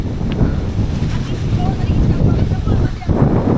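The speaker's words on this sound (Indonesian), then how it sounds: "Ya tadi kencang banget di sini angin ya, luar biasa." Strong wind roars and buffets the microphone in a continuous low rumble, surging in gusts without letting up.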